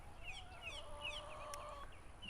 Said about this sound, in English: You can probably hear the chickens back there.